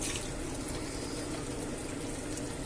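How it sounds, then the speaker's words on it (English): Water is poured into an emptied tomato can and swirled around, a dense continuous sloshing rush that stays loud and close throughout, with no talk. "So I'm just going to put a bit of water in there. Can't go to waste, can it? So a bit of water, give it a shake,"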